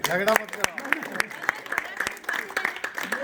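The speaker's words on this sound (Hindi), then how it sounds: "एक बार जोरदार ताली।" Scattered hand clapping from a small crowd, uneven sharp claps overlapping with voices and cheering.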